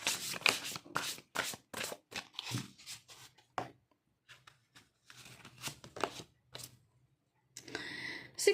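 Tarot cards shuffled and drawn by hand, a run of quick crisp riffling snaps followed by sparser light slaps and slides, close and fairly quiet, with a few soft vocal murmurs mixed in.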